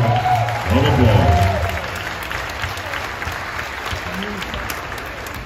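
Audience applause for a high school junior about to sing the national anthem at a Harborfields High School basketball game, a steady gym-filling clatter of clapping with a crowd voice swelling briefly near the start.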